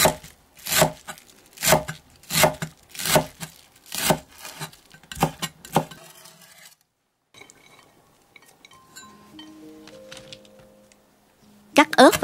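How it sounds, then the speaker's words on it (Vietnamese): Rapid knife chops through scallion greens and cilantro on a board, a series of close, even strokes for about six seconds, then quiet kitchen sounds and a few closing chops. "Tiếp theo xắt nhỏ phần lá hành và ngò rí để làm rau nêm."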